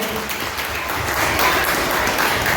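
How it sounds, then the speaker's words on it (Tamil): A crowd at a final-day children's celebration gives a big, steady round of clapping that stays loud and continuous from start to finish. "ஒரு மிகப்பெரிய கைத்தட்டலை கொடுத்துருவோம்"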